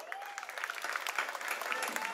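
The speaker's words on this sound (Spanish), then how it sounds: "Regálenle un fuerte aplauso también" At a Salvadoran national symphony orchestra concert, the crowd gives steady applause for guest performers, a moderately quiet, continuous patter of many hands heard from some distance.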